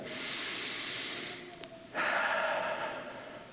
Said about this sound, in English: I want to invite you for just a moment to take a deep breath.